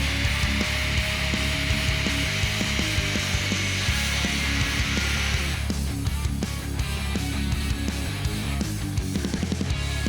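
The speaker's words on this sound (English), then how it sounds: "Finish it off with the Sawzall here." A Sawzall reciprocating saw cuts into the differential housing area of a Polaris RZR XP Turbo, a loud continuous rasping buzz with rapid stroke chatter that holds steady at close range throughout.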